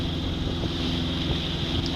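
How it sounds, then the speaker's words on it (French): Small, short waves lap and slosh beneath a small boat cruising near Cape May and Wildwood, a steady rushing wash mixed with wind buffeting the microphone, constant and fairly loud with no voices. "Bon, ben, il y a des petites vagues."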